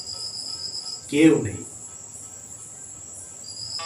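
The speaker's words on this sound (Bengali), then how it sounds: "ঝিঝি পোকার ডাক" Crickets chirp in a bamboo grove, a steady, dense, shrill drone running the whole time, briefly overlapped by a short spoken phrase.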